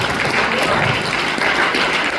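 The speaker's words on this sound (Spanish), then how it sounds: "¿Le da un aplauso al Señor?" A church congregation claps together in a steady, dense patter that fills the room throughout, with no pauses and no clear individual claps standing out.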